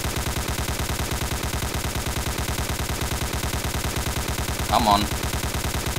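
Rapid, evenly spaced machine-gun bursts from a war video game rattle continuously at close range, with a brief voice cutting in near the end.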